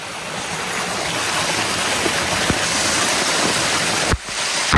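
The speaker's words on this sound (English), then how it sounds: "Is this how it gushes?" Water under pressure gushes through a small Pelton turbine built from a hoverboard motor beside a stream, a loud, steady, broadband rushing spray that briefly dips near the end.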